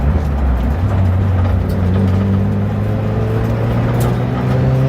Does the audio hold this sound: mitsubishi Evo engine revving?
yes